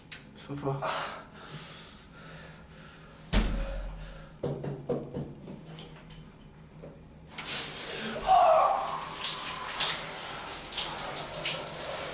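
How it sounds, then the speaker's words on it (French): A shower starts running partway through, a loud, broad hiss of spraying water that continues steadily after earlier quieter knocks and rustles, with people speaking throughout. "je prendrais bien une douche quand même"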